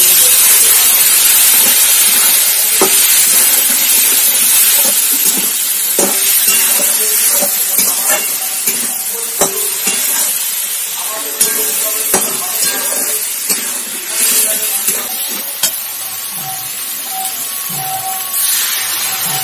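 Water poured onto frying masala in a pan sets off a loud, continuous sizzling hiss that slowly settles, with scattered clinks and taps of a utensil through it.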